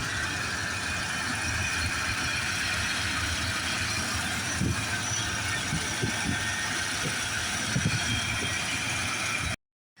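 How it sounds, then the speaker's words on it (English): A 1995 Ford F150 engine, just fitted with a new water pump, idles steadily and close by with a constant low hum and faint periodic knocks, running unbroken for about nine and a half seconds before cutting to silence. "Just letting the engine run here."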